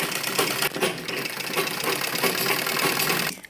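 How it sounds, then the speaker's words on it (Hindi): Sewing machine stitching along a fabric edge while making a baby's dress, a steady close mechanical whir that runs continuously for the whole stretch and stops at the end. "यहाँ पर किनारे से हम इसको लेकर इस तरह से सिलाई लगाएंगे"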